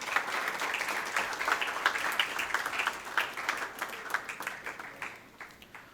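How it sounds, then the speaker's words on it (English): Audience applause at a business conference session, a steady wash of many hands clapping that gradually thins and tapers toward the end. "Can we have a round of applause for him?"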